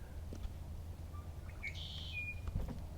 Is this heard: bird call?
yes